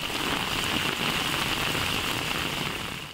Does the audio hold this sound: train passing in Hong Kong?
no